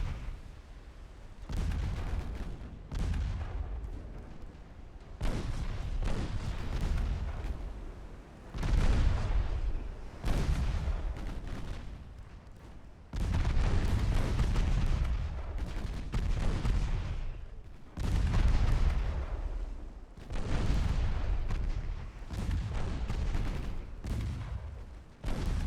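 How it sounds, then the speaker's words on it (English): Naval guns boom in battle in the Ultimate Admiral Dreadnoughts video game, a series of heavy blasts with rumbling tails, irregularly spaced across the stretch and loud, with no talk over them. "At least my guns are now doing the work."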